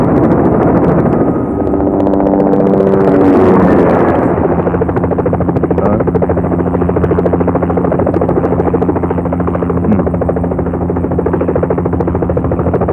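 A helicopter roars steadily in a movie action scene, its loud rotor and engine drone filling the whole stretch, with a brief surge in the first few seconds before settling into a constant, close, throbbing hum.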